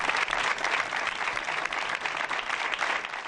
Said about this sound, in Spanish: Con este aplauso, el personal concentrado a las puertas de los centros ha rendido un emotivo homenaje